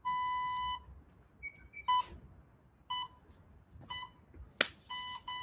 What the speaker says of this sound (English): got my timer here